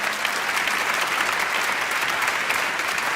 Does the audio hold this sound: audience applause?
yes